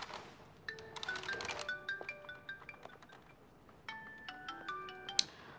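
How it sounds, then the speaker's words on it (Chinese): A mobile phone plays a melodic ringtone in an office, bright repeating electronic notes in two bursts with a short pause between them, moderately quiet and without talk. "你电话一直在响"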